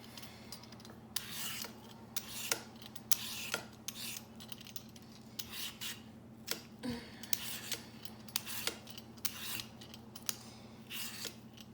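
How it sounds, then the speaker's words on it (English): A vegetable peeler scrapes a potato in quick, irregular strokes, each a short rasping swipe, close and fairly quiet with a low steady hum behind. "So I'm just going to take my peeler and do a rough peel."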